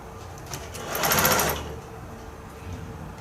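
A sewing machine stitches straight across a piece of fabric in a short burst. A fast, buzzing run swells for about half a second and then stops, with quieter handling noise before and after.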